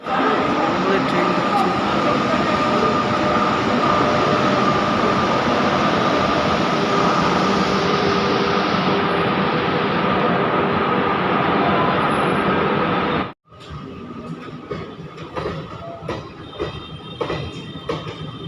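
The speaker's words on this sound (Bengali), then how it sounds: "স্টেশন থেকে এখন ছেড়ে বেরিয়ে গেল শিয়ালদা থেকে রামপুরহাটগামী মা তারা এক্সপ্রেস" Maa Tara Express, a Sealdah to Rampurhat train, pulls out of Burdwan station platform 1, a loud steady rumble of wheels and carriages that cuts off abruptly near the end, leaving quieter station noise.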